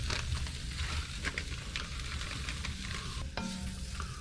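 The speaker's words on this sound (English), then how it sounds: "Starting to fry off here now. I'll keep it moving." Pork pieces coated in flour fry in a pan on a narrowboat stove, a steady close sizzle running throughout with scraping and clattering as they are stirred, and a brief metallic knock near the end.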